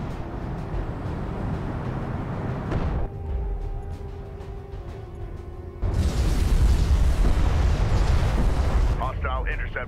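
A spacecraft explosion in Homeworld: Deserts of Kharak, a loud sustained roaring burst over dense battle rumble and cannon fire, ending with a garbled radio voice.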